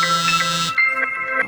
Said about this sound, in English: somebody's trying to call me on my phone